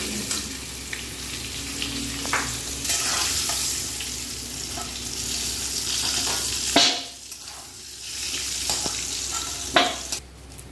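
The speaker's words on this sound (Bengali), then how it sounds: "সে ভাজা তেলে আমি দিয়ে দিলাম তেজপাতা ফোড়ন আর সঙ্গে দিয়ে দেবো গোটা জিরে ফোড়ন" Bay leaf and whole cumin seeds tempering in hot oil left from frying tomatoes, a close continuous sizzle with stirring scrapes and a few sharp clinks, briefly quieter midway before the crackle resumes.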